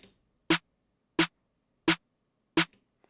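A dry, unprocessed trap snare sample struck four times at a steady interval, each a punchy close crack with a short ring, alone without any voice.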